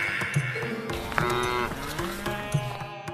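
Cows and buffalo moo repeatedly at a temple cattle shelter, several overlapping low calls over a busy farmyard background with no talking.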